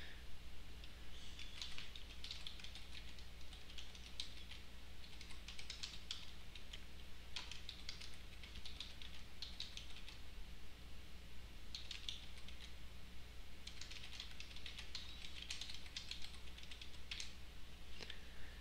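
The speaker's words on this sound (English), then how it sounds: "I'm just going to type in a quick note." Soft keystrokes on a computer keyboard as a quick note is typed, irregular light clicking in short bursts with pauses, faint under a steady low room hum.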